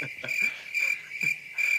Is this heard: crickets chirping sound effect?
yes